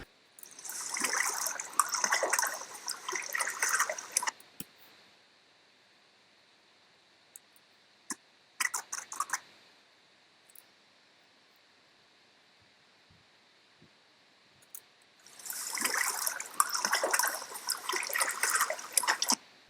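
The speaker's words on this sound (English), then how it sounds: "we just threw in some sound of water" A rushing, splashing water sound effect layered into an edited scene plays in two loud stretches at the start and end, separated by near silence with a few faint clicks.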